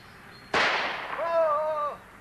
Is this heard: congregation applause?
no